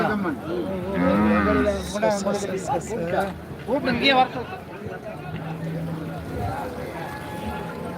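Cattle low at the Karungalpalayam cattle market, a buffalo's deep drawn-out bellow rising over steady crowd chatter and voices talking nearby.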